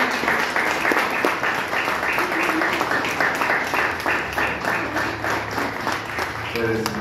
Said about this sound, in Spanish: Nos felicitamos con un fuerte aplauso.